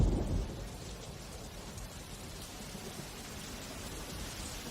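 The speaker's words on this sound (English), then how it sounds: "The heat and humidity triggers a dramatic change in the weather. Thunder in the distance." Heavy monsoon rain pours steadily during a tropical thunderstorm, a dense continuous roar, with a low rumble of thunder at the start that fades into the downpour.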